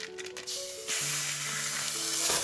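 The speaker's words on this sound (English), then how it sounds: "I'm going to put the sausage in." Sausage for Polish pierogi filling goes into a hot pan on the stove and begins a loud, steady sizzle that holds to the end, over a faint low tonal hum.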